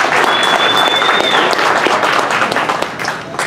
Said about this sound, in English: So a round of applause for yourself.